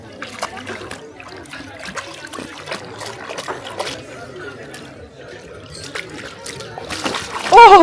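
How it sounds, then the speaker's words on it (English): Dog swimming in water on a hike in the Parc des Calanques, southern France: repeated close splashes and sloshing paddling strokes, with a loud burst of splashing at the end, and people talking throughout. "he's swimming whether he likes to or not"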